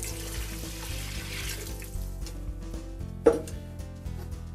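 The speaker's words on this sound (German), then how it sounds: "jetzt gießen wir locker das halbe Bier mit rein" Beer pours into a Dutch oven of braising pork cheeks at an outdoor barbecue, a soft steady liquid splashing under a humming background, with a sharper clink or splash near the end.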